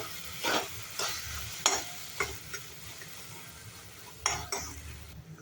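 Roasted peanut powder stirred into baingan bharta in a pan, with a spoon scraping and clinking against the metal in several spaced strokes, fairly close and quiet, no talking.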